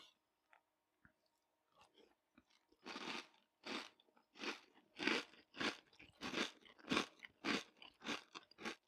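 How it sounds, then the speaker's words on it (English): Super Zeros high protein cereal crunched while being chewed, a steady run of about ten loud, close, crisp crunching bites, each a short burst, after a few quieter small sounds at the start. "you're getting that satisfying crunch that you get with cereals"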